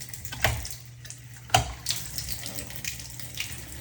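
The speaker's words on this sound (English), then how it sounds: "Looks like your shower valve is not shutting off either, completely like it should." Water runs steadily from a household shower valve that won't fully shut off, a constant close hiss with a couple of brief clunks or splashes over it.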